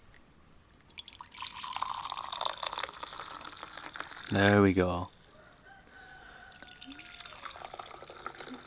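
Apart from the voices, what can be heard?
coffee being poured into a cup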